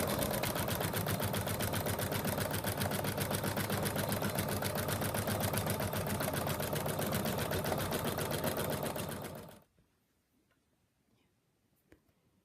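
An embroidery machine stitches the final color around the edge of a mug rug in the hoop, running as a fast, steady mechanical chatter for about nine seconds before it stops abruptly into near silence.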